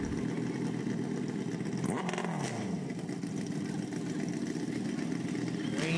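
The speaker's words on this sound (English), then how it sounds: "Wayne Leachman on his Kawasaki ZX14." Kawasaki ZX14 motorcycle at a drag race strip, a loud steady engine drone throughout with a rising-then-falling rev sweep near the start as a bike passes close.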